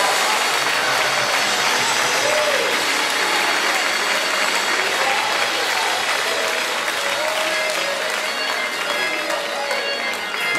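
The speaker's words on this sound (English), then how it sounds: "I want you to clap your hands and give God a shout." A church congregation at an Easter Sunday service claps hands steadily and loudly for about ten seconds, with scattered shouts and voices rising through the dense, continuous applause.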